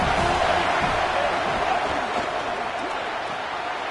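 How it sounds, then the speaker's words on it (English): A stadium crowd in a college football video game roars with a steady, dense wall of cheering that stays loud and continuous throughout, with no clear individual voices standing out. "This crowd bringing an ear-splitting welcome to their visitors."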